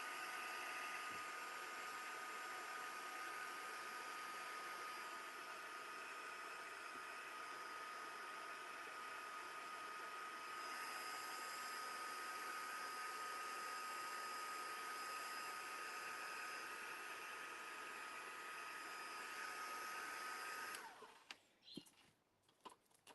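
A hair dryer blows steadily and close for about twenty seconds, drying painted ovals and stenciling in a mixed media piece, then switches off, leaving faint handling clicks.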